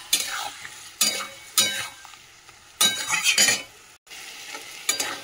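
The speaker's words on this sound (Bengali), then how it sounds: "দিয়ে এবারে মশলাটা ভালো করে কষাবো।" A spice paste of tomato, green chili, ginger, cumin and coriander sizzles in a pan while a spoon scrapes and stirs it. The stirring comes in repeated close bursts with a steady fry between them.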